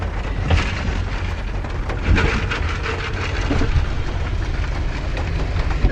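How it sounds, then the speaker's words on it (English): Steady rain drums on a vehicle driving along a road in a snowstorm, a dense continuous patter with low road rumble underneath and occasional louder bursts of drops. "and it's raining."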